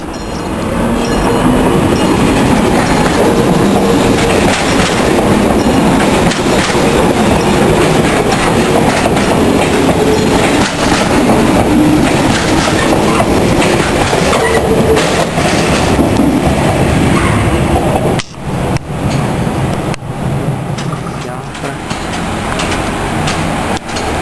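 A train on the Napoli–Ottaviano–Sarno line rolls through the Via Lo Porto level crossing at San Valentino Torio, a loud, steady rumble with rhythmic clickety-clack of wheels over rail joints, briefly dipping before the wagons continue past.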